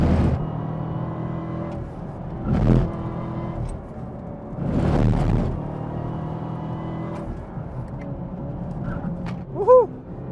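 A Chevrolet Camaro ZL1 of 659 hp lapping a race circuit, its engine droning and rising in several revving surges, with whirring and a brief squeal near the end, heard from inside the car.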